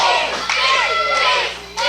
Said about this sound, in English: I believe the crowd is chanting, please.